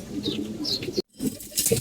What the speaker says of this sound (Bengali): দুটা কবুতর দেখতে পাচ্ছেন এগুলাও সেম বেসের কবুতর